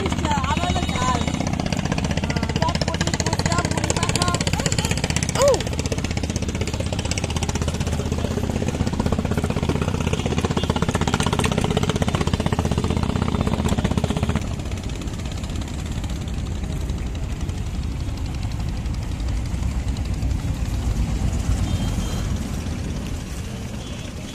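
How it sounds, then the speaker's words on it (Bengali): Trawler boats passing on the water make a loud, continuous chugging engine drone that eases slightly partway through, with people talking over it. "এখান থেকে যে ট্রলারগুলো যাচ্ছে, এই ট্রলারের জন্য মনে হচ্ছে যে আরো বেশি ঢেউ আসছে"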